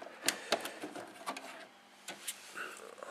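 Epson SX130 inkjet printer shuttling its ink cartridge carriage into view, giving a few close mechanical clicks and short whirring motor runs with pauses between them.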